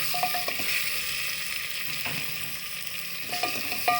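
Meat and spices frying in a pan for aloo chicken korma, a steady close sizzle with occasional scrapes and clinks of a stirring spoon.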